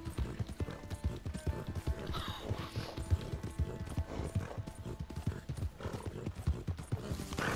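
Brisk clip-clopping hooves trot steadily over ground in Red Dead Redemption 2, with an occasional horse whinny and faint game ambience behind.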